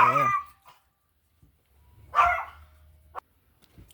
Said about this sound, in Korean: 강아지가 많이 짖어서